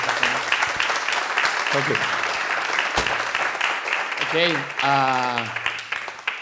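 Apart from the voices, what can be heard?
audience applause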